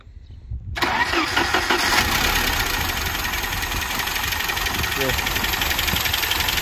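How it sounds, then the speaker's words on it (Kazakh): A Mercedes car engine with a mechanical knocking fault and an overheating, boiling coolant problem cranks and catches after a short pause, then settles into a loud, steady idle nearby. "барып от алдырып жүр машинаны"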